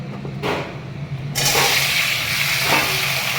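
Eggplant pieces frying in a pan for a vegetarian meal, with a quiet hum before a loud, steady sizzle starts about a third of the way in and continues to the end.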